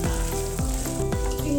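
Potatoes frying in a pan give off a steady close sizzle, with a few sharper scraping or stirring clicks scattered through it and no talk.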